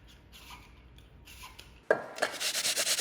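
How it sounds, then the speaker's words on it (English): An apple peeled and then grated by hand: soft rubbing strokes at first, then louder, rhythmic rasping passes across a grater, close up. "so we want to peel and grate this one."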